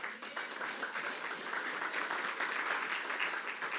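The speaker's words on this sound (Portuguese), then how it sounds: "Você pode aplaudir o Senhor por essa palavra?" A church congregation applauds after the sermon, giving a steady, moderately distant patter of many hands clapping that holds even throughout, with no speech over it.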